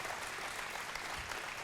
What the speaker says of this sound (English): So thank them all, and with a round of applause.